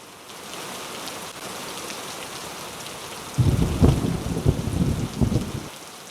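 Heavy overnight rain pours steadily in Mumbai as a dense, continuous hiss, swelling into a louder, rougher downpour for the last few seconds.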